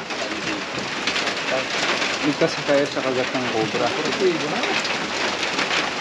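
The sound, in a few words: heavy rain suddenly intensifying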